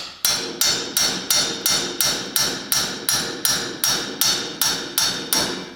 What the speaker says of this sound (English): I do my hand impact